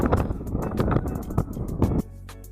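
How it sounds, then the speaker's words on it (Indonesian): Strong wind blowing hard over an open fishing spot, a loud continuous buffeting roar with gusty surges that drops sharply to a lower steady rumble after about two seconds. "walaupun angin begitu kencang"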